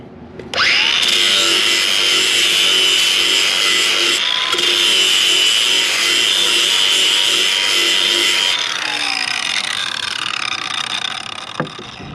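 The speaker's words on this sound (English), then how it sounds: "So I take my flap disc on the grinder." Angle grinder fitted with a flap disc grinding steel outdoors on an anchor bolt setup for a Red Iron shop building: one loud, steady, high-pitched whirring grind of about eight seconds, then a quieter tail with a sharp knock near the end.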